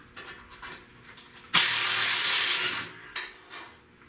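Metal brake lines being pulled and scraped off a rusty car frame, two harsh grinding bursts, one long and one short, amid faint clicking work noises close by.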